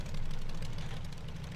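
Aircraft engine running in the WWI flight game Rise of Flight, a steady low throbbing drone with a rapid pulsing beat, close and continuous.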